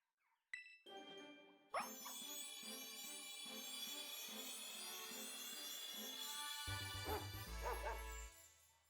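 A dog Pokémon's cry sounds in a Pokémon video game, synthesized bark-like yips over a bright, ringing jingle of game music. A low, heavy tone swells near the end before everything fades.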